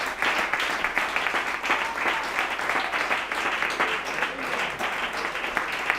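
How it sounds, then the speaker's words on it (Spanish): Sustained applause from a church congregation, dense clapping continuing evenly throughout at moderate distance. "Si quieren aplaudir al Señor, apláudanlo nomás."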